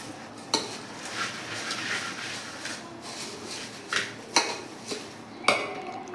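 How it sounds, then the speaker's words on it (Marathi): A spoon works through a bowl of sprouted moth bean bhel, Pune-style matki bhel, making soft scraping and rustling with several sharp metallic clinks at irregular intervals, close and clear, with no talk. "आता ते आपण एकजीव करून घेऊयात।"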